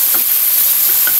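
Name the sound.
frying sweet potato and potato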